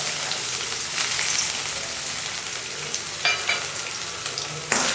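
Small cut coconut pieces fry in hot ghee in a pan, a continuous soft sizzle with faint bubbling and a few louder stirring scrapes, heard close with no voices.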